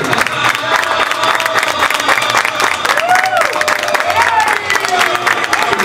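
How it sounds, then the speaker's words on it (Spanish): A large outdoor crowd at a town festival in Tuxpan applauds and cheers loudly for the folkloric dance group Tierra y Libertad, with dense steady clapping and shouts under a voice talking over a loudspeaker. "Fuerte el aplauso para el grupo folclórico Tierra y Libertad"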